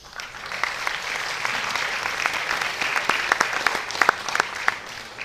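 Audience applause at a talk about The Witcher 3 game design, steady dense clapping with a few sharper individual claps standing out near the end, moderately loud and without speech.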